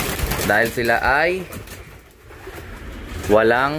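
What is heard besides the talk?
racing pigeons cooing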